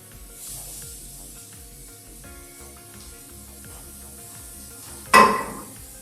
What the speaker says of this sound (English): Up next, we're going to add our mushrooms.